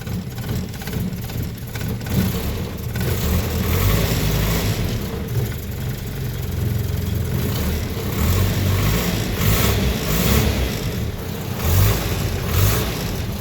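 A car engine idling and revving on its first start after a transmission replacement, a loud close rough rumble that swells and falls through several revs, gruff and diesel-like with part of it open, with no talking.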